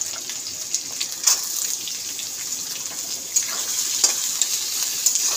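Chopped carrot, beans and capsicum fry in a hot pan with onion. There is a constant, bright sizzle with occasional sharper crackles and stirring clatter.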